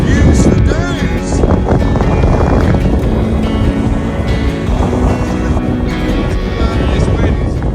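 Strong wind buffets the microphone on Hound Tor, an exposed granite tor on Dartmoor, as a loud, continuous roar and rumble that never lets up over several seconds.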